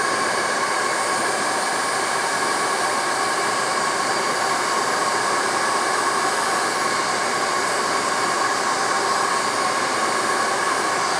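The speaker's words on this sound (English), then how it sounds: "blow dryer." A blow dryer heat-shrinking PVC wrap onto 18650 and 26650 batteries runs steadily and loudly the whole time, a constant whooshing roar with no pauses or voices.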